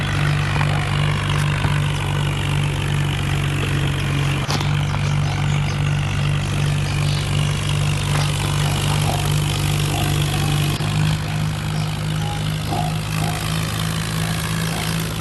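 A tractor drives along a straight village road, its engine droning steadily and loud with a low hum and rattling clatter throughout, no talk.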